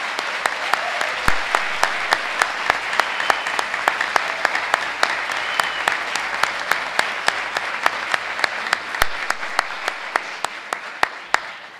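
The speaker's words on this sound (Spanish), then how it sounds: "quiero, bueno, pues que le demos todos un gran aplauso" An audience applauds the speakers at a round-table event on computer security at a university, with steady, dense clapping throughout and sharp individual claps standing out close by.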